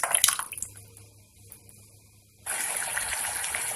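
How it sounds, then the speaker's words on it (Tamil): Water is poured into a bowl while cooking mushroom butter masala: a brief splash at the start, a quiet pause, then a loud, steady gushing pour close by. "அந்த கிண்ணத்துலயே நம்ம கொஞ்சம் தண்ணி ஊற்றிக்கலாம்"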